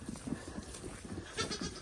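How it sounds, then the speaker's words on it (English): A goat bleats softly a few times on a farm at meal time, faint and somewhat distant over rustling background noise. "Yeah, had to wrangle a goat."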